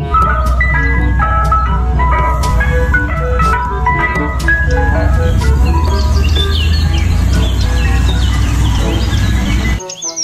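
A toy ice cream truck plays its jingle, a continuous string of bright electronic melody notes with a steady low hum, loud and close throughout, stopping abruptly at the very end.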